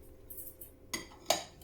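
Almonds and whole white pepper drop into a mortar, making two distinct hard clinks against the bowl after a quiet start, close and fairly faint.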